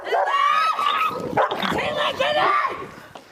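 Dog barking and yelping during a police encounter near Mexborough, a series of sharp, high, strained barks and whines at close range, with shouting voices mixed in.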